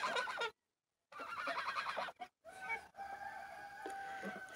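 Geese at their morning feeding give close, loud honking and cackling calls in ragged bursts, broken by brief silent gaps.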